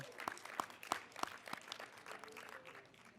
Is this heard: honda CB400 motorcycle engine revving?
no